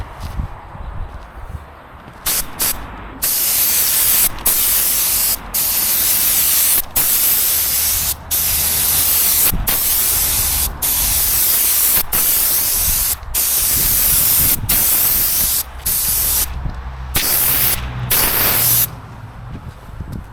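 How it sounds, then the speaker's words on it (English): A spray gun lays a dusting coat of lacquer onto a Mini car body: repeated loud, close bursts of hissing spray, each lasting a couple of seconds, separated by short pauses. "let's give this a first dusting coat of lacquer"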